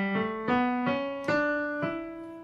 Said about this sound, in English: Dorian sounds like this.